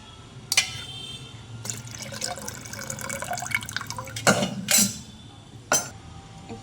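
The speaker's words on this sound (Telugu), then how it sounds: "మునక్కాడలలో ఉన్న వాటర్ని కూడా పప్పులో యాడ్ చేయండి," Cooking water from boiled drumsticks is poured into dal in an Andhra-style drumstick sambar, giving several short splashy pours and trickles over a low background hum, fairly close.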